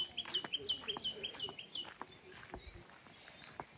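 Sparrows and other small birds chatter in the morning with rapid high chirps, thick at first and thinning out, alongside a few lower clucking calls nearby.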